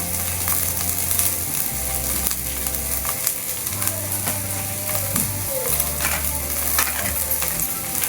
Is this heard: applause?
no